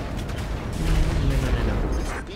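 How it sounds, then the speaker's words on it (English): Spaceship weapons opening fire in the space combat game Strike Suit Zero: a loud, continuous roaring barrage of rumbling blasts, with a voice faintly mixed in. "All ships, open fire!"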